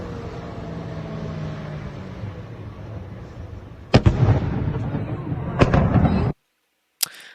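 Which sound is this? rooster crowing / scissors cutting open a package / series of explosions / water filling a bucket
series of explosions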